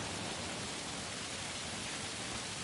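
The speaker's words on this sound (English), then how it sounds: "It's raining now." Steady, even rain hiss from Shadow of the Colossus on PS4, a dense broadband wash with no distinct drops, holding constant and moderately loud throughout with no voices.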